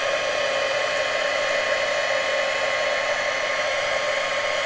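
A heat gun blows hot air steadily and evenly, a close, constant whooshing hiss while melting material for a craft piece, with no talk over it.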